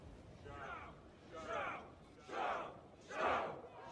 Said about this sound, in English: background NPCs in Mortal Kombat are there to cheer, or yell, or charge into battle